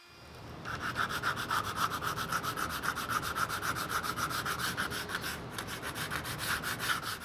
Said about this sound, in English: then sand off any fuzzy edges on the grooves